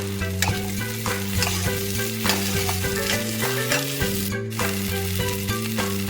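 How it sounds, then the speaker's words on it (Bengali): Chopped tomatoes sizzle in a hot pan while a utensil stirs and scrapes at them now and then, with soft music playing underneath. "টমেটো কুচিগুলো ভালো করে ভেজে নেব"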